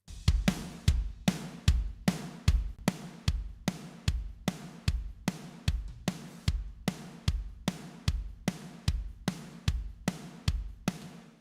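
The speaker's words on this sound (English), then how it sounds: "that's just the kick and the snare going to my KNS bus." Kick and snare drums routed through a parallel processing bus, a steady loop of punchy low kicks alternating with sharp snare hits in a regular groove, alone without other instruments.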